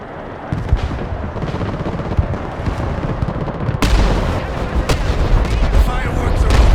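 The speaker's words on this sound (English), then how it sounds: "We'll get in for the airstrike." Airstrike explosions in the video game Broken Arrow rumble as a dense, continuous barrage of booms and gunfire, loud and close, swelling further partway through.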